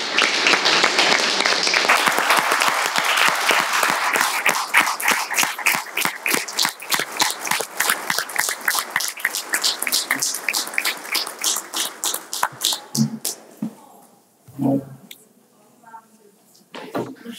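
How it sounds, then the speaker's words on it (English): An audience at a city council meeting stands and applauds, a dense burst of clapping that thins into separate claps and fades out after about thirteen seconds, followed by a few soft voices and room noises. "so let's stand up and give these fine people a applause"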